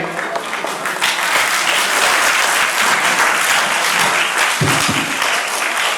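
A large gathering at a welfare event breaks into dense, sustained applause honoring mothers, a steady roar of clapping from many hands that fills the whole stretch without pause.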